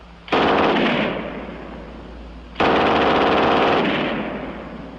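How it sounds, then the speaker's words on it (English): A German MG 42 machine gun on a tripod fires two long, rapid bursts, loud and harsh, each cutting off sharply and trailing into a ringing echo across an open range. "And last, the German 42 on the tripod."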